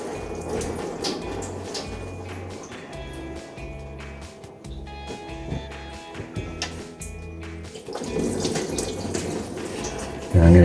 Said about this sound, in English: Maybe it doesn't have that much coolant in it. Oh yeah, there it goes.